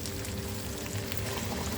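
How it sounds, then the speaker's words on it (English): Hot water poured into a pot of stewed Guyanese butterfish, a steady close sizzle and pour running continuously and fairly quietly with no talk over it. "I'll just add a cup of hot water now"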